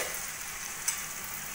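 Boiled potatoes fry with spices in a pan, giving a soft, steady sizzle with one small clink partway through.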